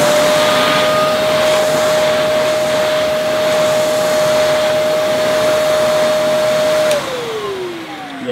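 A Hoover Commercial Portapower vacuum cleaner, an American import, runs loud and close with a steady high whine over a broad rushing roar, then the motor note drops and winds down near the end.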